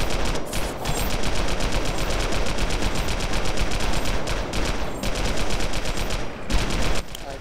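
Sustained rapid automatic gunfire in the Global Agenda video game as a wall is shot down, a dense, loud, unbroken rattle with a couple of short breaks.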